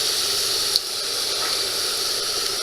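Huge steaks sizzle in a hot pan with a steady, loud hiss and one brief pop, with no voices.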